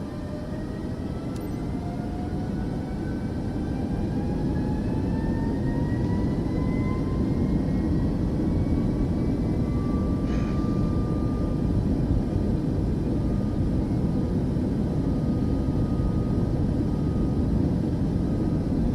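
Airliner taking off in Microsoft Flight Simulator 2024, a steady, loud jet engine roar with broadband rumble that holds throughout, rising tonal whine climbing slowly in pitch as power builds, no talking.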